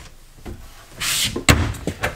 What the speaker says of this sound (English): pulling out for another drawer